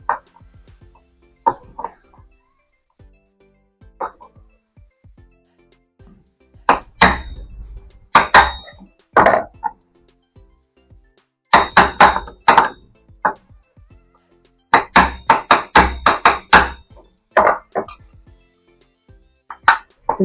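Sharp, sparse taps and knocks from hammering on a mixer grinder jar part, struck through a screwdriver, coming in irregular clusters close up, with someone speaking between strikes.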